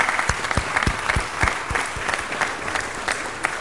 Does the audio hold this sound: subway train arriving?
no